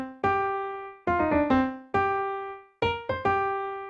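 A melody from the video game Monster Hunter Rise, played as a short sequence of clean, plucked or struck pitched notes with clear decays, alone and close, about six notes over a few seconds.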